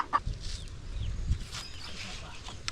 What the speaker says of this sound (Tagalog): Medyo maingay po aming mga kamanukan.